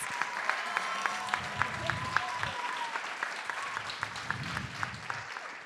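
An audience applauds students at a youth speaking event, a sustained round of clapping with one close, sharp, rhythmic clapper standing out and faint voices beneath.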